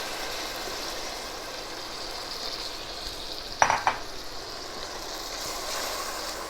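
Onions and tomato for a tuna dish fry in a pan, giving a steady, even sizzle throughout. Midway a brief pair of utensil clinks and scrapes stands out, close by and moderately loud. No speech.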